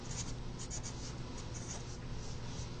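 Pen or marker scratching steadily across a surface while an equation is written out by hand during a physics problem about a small charged metal sphere; continuous close scribbling with no talk.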